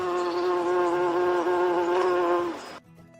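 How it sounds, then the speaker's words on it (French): A single bee hums in a close, steady, tonal drone that holds for nearly three seconds, then cuts off abruptly into near silence. "On dit qu'une abeille bourdonne."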